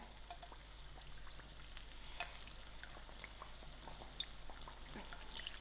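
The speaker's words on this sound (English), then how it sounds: "I will keep frying till it's golden brown." Quiet, steady sizzling of potato kachori frying in shallow hot oil, with occasional soft pops and crackles and faint background hum.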